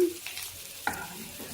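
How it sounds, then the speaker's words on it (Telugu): Stuffed bitter gourd shallow-fries in an oiled pan with a quiet, steady sizzle. A single scrape of a spatula turns the pieces partway through. "షాలో ఫ్రై అండి ఈ విధంగా కొద్దిగా ఒక రెండు నిమిషాలు అయినాక ఇలా తిప్పుకోండి కాకరకాయ"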